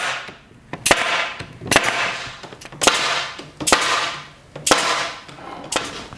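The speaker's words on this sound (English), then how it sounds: "And one nail a piece, or one staple from the air gun." A pneumatic air staple gun fires staples into wooden frames, giving six sharp, loud cracks at roughly one-second intervals, each followed by a short hiss of air.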